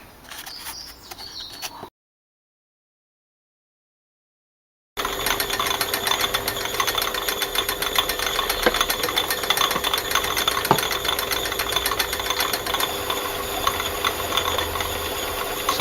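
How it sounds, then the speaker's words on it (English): A metal lathe turns a Morse taper with the tailstock offset as the saddle feeds down the bed, producing a steady mechanical whir with faint ticking and occasional sharper clicks, broken by a few seconds of silence early on. "So I'm turning the taper by feeding the saddle down the bed."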